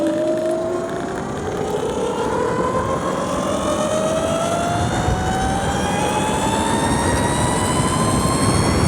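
A 72v electric mini moto with an upgraded belt drive rides along, a steady rising whine climbing in pitch over broad rushing wind and road noise, loud and continuous throughout.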